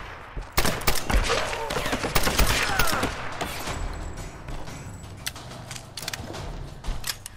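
Rapid bursts of gunfire in the video game Tomb Raider crackle in quick succession, sharp repeated shots with mechanical clicks between volleys.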